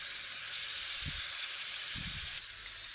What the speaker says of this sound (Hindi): चिकन को हम हाई फ्लेम पर भून रहे हैं